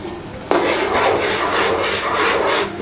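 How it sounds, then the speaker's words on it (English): A spoon stirring creamy salmon pasta sauce with butter, cream and nutmeg in a pan, a steady close rasping scrape that starts abruptly and runs on with a rhythmic swishing pulse. "Nutmeg's in. Just give it a bit of a stir."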